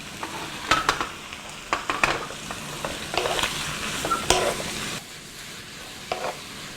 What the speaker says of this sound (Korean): 여기다가 미역을 같이 넣고 볶을 거예요